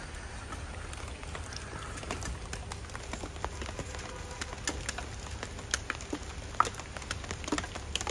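Steady, faint rain falls outside a railway wagon used as a home in Osh, a soft constant hiss dotted with sporadic sharp drop ticks, with no talking.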